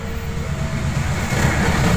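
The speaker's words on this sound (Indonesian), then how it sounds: "Kereta api dari arah Gombong akan melintas." A train passes near a railway line coming from the direction of Gombong station in Indonesia, a loud, steady broadband rumble and roar with some faint tonal whine, building slightly toward the end.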